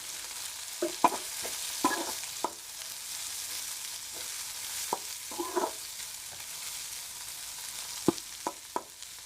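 Crushed garlic frying in a hot pan, a soft background sizzle broken by scattered sharp clicks and scrapes of stirring, fairly quiet with no voices.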